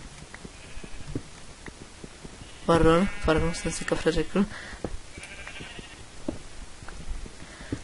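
Sheep in the video game Minecraft bleat several times in quick succession, fairly close and loud, amid game clicks, with someone speaking briefly in Czech.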